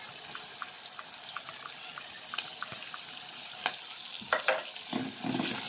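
Chopped calabresa sausage and garlic frying for farofa, a continuous sizzle with a rhythmic run of spoon taps against the pan, then louder clattering stirs toward the end.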